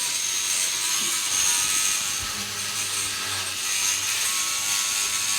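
A Rubbermaid battery power scrubber runs against grime with a steady, loud mechanical whir and brushing hiss that holds an even level throughout, with no voices.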